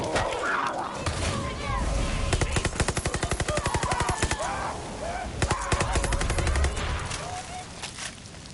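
Rapid automatic gunfire in the Far Cry 5 / New Dawn shooter on PS4, bursts of loud machine-gun rattle aimed at the player, with someone talking over the shots.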